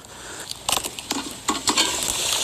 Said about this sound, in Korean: 오 팔팔 끓는다 팔팔 끓어